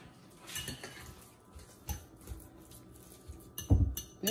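Corned beef for a Jamaican sandwich stirred in a pan, scattered clinks and scrapes of a utensil against metal, quiet with one louder knock near the end, no speech.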